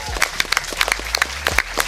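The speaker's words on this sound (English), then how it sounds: "a big shout out to also one more round of applause" A crowd claps in a brief burst of applause at a speedrunning event finale, with scattered cheers and voices mixed into the dense patter.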